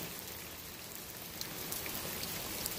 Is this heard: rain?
yes